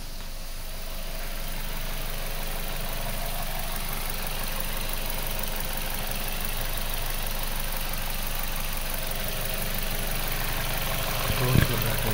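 A Suzuki Jimny engine idles under a car inspection, a steady, even low rumble with a faint hum that stays level throughout, heard close with a brief knock near the end.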